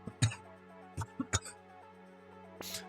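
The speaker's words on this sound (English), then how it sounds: "Sorry, cough of doom there." A person coughing several times in quick bursts, short harsh close hacks spread over a few seconds with a faint game soundtrack humming underneath.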